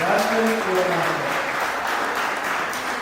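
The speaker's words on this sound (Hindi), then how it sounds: "तो चलिए तालियों के साथ स्वागत करते हैं हमारे होस्ट" An audience at a book launch ceremony applauds to welcome the hosts, with dense, steady clapping throughout and a voice briefly audible at the start.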